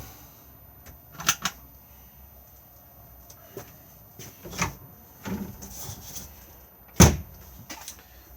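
A drawer in the interior of an Adria Twin Plus 640 SPX camper van slides open and shut, giving several wooden knocks and scrapes that end in one sharp closing thud.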